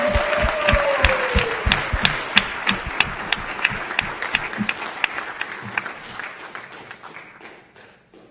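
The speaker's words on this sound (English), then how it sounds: "let's give one more round of applause for these awesome guys." Sustained audience applause at a SpaceVision 2013 Ignite Talks event: dense clapping from a large crowd, loud and steady, with a brief vocal tone at the start, tapering off toward the end.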